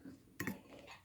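A utensil scrapes and clinks against a bowl while mixing banana and egg batter, giving one brief clatter amid quiet background.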